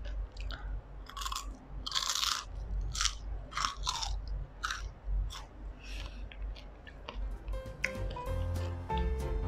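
Crunchy baked vegetables, including crispy roasted okra, are chewed close to the mic, with loud repeated crisp crunches and bites in an uneven rhythm, followed by lighter clicking and rustling at the end.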